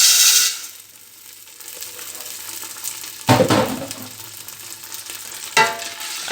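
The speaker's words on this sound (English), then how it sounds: "At this point, I will add my corn." Popcorn kernels poured into hot oil in a pan for stovetop popcorn, giving a bright sizzle at the start, then steady frying hiss with two louder bursts of stirring or scraping.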